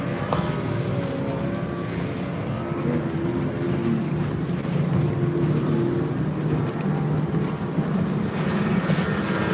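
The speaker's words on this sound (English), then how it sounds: "boat going through the water absolutely perfectly, well balanced, nice trim, going really well" A racing sailboat moving through water, with steady rushing wash and wind buffeting the microphone, continuous and close.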